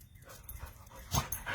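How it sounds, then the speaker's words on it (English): Dogs, including one about four months old, whimpering and panting nearby outdoors, with a brief louder yelp-like burst partway through. "Sorry about the dogs."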